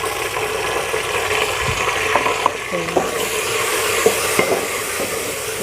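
Tomatoes and green chillies fry with browned onions in a pan, a loud continuous sizzle broken by a few sharp stirring scrapes and knocks against the pan, no one talking.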